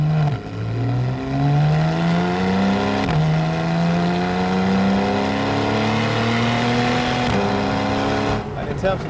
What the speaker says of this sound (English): And it is this that you get in the sports exhaust.